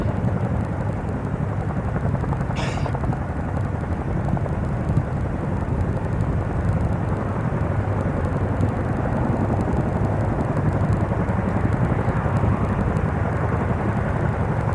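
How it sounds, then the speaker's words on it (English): Indian Air Force Chinook helicopters fly during a military exercise at Pokhran, giving a steady, loud broadband rotor and engine roar that holds constant throughout with no talk. "Now the Chinook helicopters have completed their mission and are moving on to the next mission."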